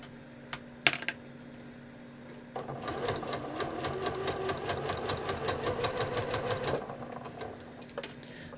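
A sewing machine stitches fabric along a curve with a steady, rapid mechanical chatter for about four seconds, preceded and followed by faint clicks and handling noises.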